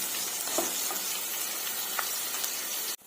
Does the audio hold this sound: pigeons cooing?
no